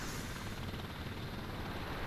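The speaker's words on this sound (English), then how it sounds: "And that over there is a helicopter." Helicopter in the game Thunder Helix gives off a dense, steady whirring roar with faint rapid pulsing, broadband and fairly quiet overall.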